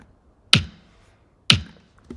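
Two sharp snare drum hits about a second apart, crisp and dry with short decay, followed by a softer faint tap.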